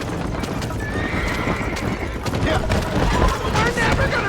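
Horses gallop in the Western video game Red Dead Redemption. Rhythmic hoof clip-clops pound steadily, a horse neighs, and scattered gunfire crackles, with voices speaking over the action.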